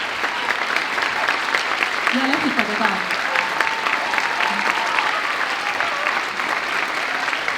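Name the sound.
audience applause at a children's dance concert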